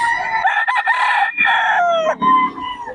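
Roosters crow loudly and cluck at a poultry market in Bocaue, with several overlapping crows close by, strong and steady.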